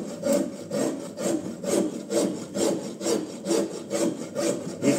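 A woodworking rasp files across a piece of wood in steady back-and-forth strokes, a loud, close, rhythmic rasping with about ten even passes and no talking.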